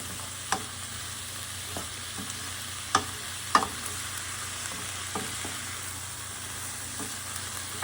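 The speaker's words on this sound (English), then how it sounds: "we're going to let this saute down for about 5 minutes" Herbs and seasonings, including basil and parsley, sauté in a pan with a steady low sizzle, broken by a few soft clicks of stirring.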